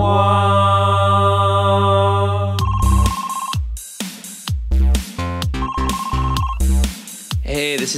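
A ringtone-like synthesized tone sounds loudly at first, followed by choppy electronic music bursts interrupted by short gaps, with a voice briefly talking.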